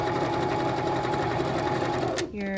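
A sewing machine runs steadily, stitching through quilt fabric for a quilt square, with a continuous close whir that stops briefly near the end as the needle drops and the fabric is pivoted.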